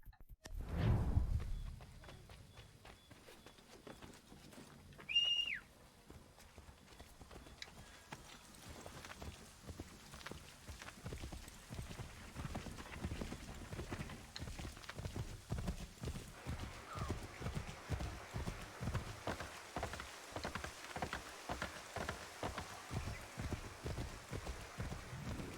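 In Assassin's Creed III, a horse whinnies early on, then hooves clip-clop in a steady, rhythmic trot that grows more regular and continues to the end.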